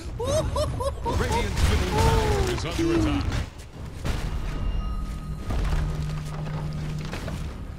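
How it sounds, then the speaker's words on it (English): Game structure destruction in Dota 2, a middle tower collapsing amid a teamfight with Earthshaker: dense crashing impacts and booming thuds layered with spell effects and announcer-style voices, then a lower rumbling tail. "Radiant's middle tower has fallen."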